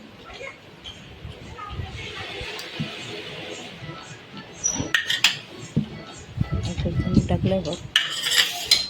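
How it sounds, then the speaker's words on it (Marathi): Spoon stirring fish curry (pomfret) in a metal pot, soft scraping and clinks growing louder and more frequent in the second half, close and under a woman's speech. "कालवण पुन्हा एकदा ढवळलं"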